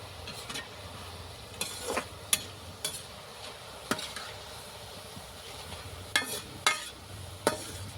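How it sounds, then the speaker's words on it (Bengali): Bondia batter fries in a pan of oil, a soft continuous sizzle broken by scattered sharp clicks and scrapes of a utensil against the pan. "আমি 2বারে ভেজে নেব, একবারে আমার হয়নি।"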